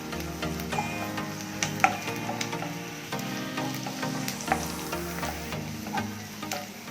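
Curry leaves fry in hot oil in a pan while making buttermilk sambar, giving a steady, fairly quiet sizzle scattered with sharp crackles and pops, heard alone without speech.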